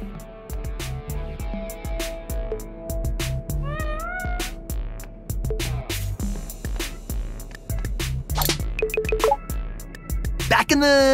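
A robot cat in the video game Hi-Fi Rush meows a couple of times, short rising and falling cries over a steady electronic beat with ticking percussion.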